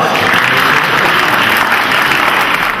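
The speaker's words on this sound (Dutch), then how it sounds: "Applaus." A short burst of dense audience applause at a community sport and culture pass presentation in a library, loud and continuous with no talk.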